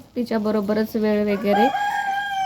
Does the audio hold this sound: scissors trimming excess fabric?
no